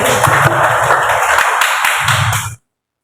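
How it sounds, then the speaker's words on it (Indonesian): An audience of teachers at a school gathering claps together in a burst of applause, a dense patter of many hands that carries on for about two and a half seconds and then stops suddenly. "Tepuk tangan untuk kita semua."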